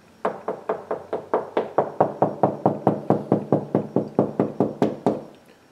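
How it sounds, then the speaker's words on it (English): Knuckle knocks on a wall while searching for a stud: about twenty evenly spaced, hollow taps in a steady rhythm, close and clear with no talking. "So I'm just going to tap it with my knuckle"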